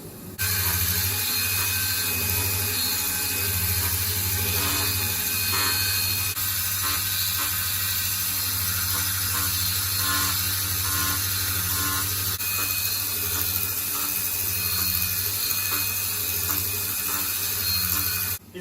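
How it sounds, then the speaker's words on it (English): A CNC machine cuts diamond-cut patterns into a gold bangle with a steady, continuous whirring hiss and a low motor hum that runs unbroken for the whole span. "And now it's cutting the diamond cuts."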